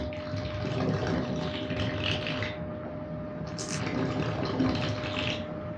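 A 12-volt electric gold dredge suction nozzle pulls water at a shallow stream edge, with a steady motor hum under continuous gurgling and sloshing water.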